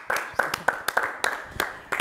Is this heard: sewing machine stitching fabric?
no